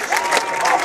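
Spectators clapping and cheering after a great volley at a beach volleyball tournament, a brief burst of dense applause close by with voices mixed in.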